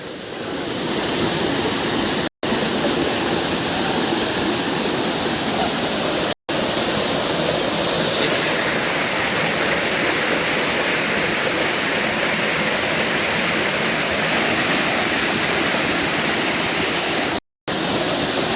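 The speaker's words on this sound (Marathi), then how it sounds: "पाण्याचा फ्लो सुद्धा भरपूर आहे" A strong flowing stream rushes loud and close, a continuous broadband roar of water that holds steady throughout, broken only by a few brief dropouts.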